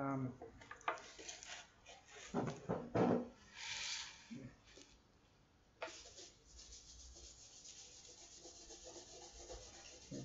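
Sandpaper rubbing over a guitar body to smooth bumpy areas, producing gritty scraping strokes in short irregular bursts, close and fairly quiet, with a brief pause midway before steady rubbing resumes.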